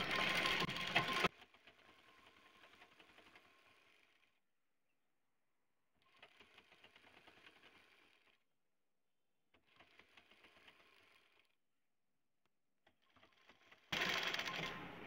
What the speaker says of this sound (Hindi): ये हमारा मोहरी के पास से हमारी सिलाई चला देंगे